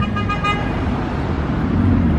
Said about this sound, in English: That guy's honking from four cars back.